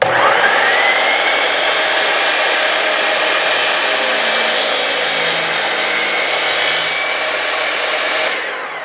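Miter saw with an Oshlun LG-M01 laser guide spinning up in a home garage shop, its motor whine rising in pitch at the start, then a loud, steady high whir that holds before easing slightly at the end.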